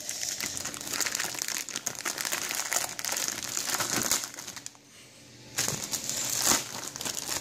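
Plastic film wrapping from a Lego Ninjago set crinkles and rustles in repeated bursts close by, with a brief quiet gap before the crackling resumes.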